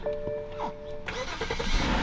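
BMW E60 engine starting with a key: a starter whine and cranking, then the engine catches into a loud, broad roar, with brief voices in the background.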